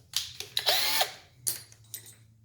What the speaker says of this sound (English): So we got a 1/4 inch drill bit here.